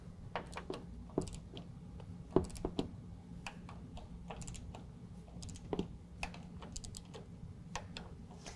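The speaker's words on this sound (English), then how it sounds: "we're going to go ahead and tighten down these three bolts using a T30 to 55 inch-pounds" Bolts on a 2019 Ram 1500 tonneau cover rail being tightened with a T30 Torx driver to 55 inch-pounds: soft, irregular ticking and clicking of the tool ratcheting, with a few sharper metallic taps, close and quiet, no talk.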